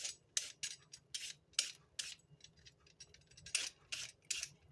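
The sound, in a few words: scraping the outsides of carrots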